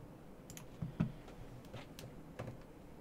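A few faint computer keyboard clicks land at scattered moments, quiet and close, with a low steady hum filling the gaps between them.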